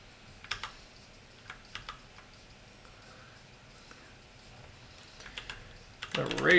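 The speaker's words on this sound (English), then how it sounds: "Got myself a Razer Black Widow V3. What is it? It's a keyboard." Clicky keystrokes on a Razer BlackWidow V3 mechanical keyboard come in short, scattered bursts of sharp taps at close range, with quiet gaps between, before a voice begins speaking at the very end.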